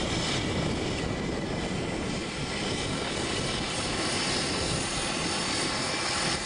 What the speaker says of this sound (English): Early Saturday morning, the next group arrives on the turbine Otter.